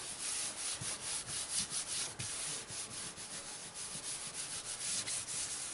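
Paper being rubbed firmly by hand while making a stationery book, a steady close scratchy swishing with quick repeated strokes that continue without pause.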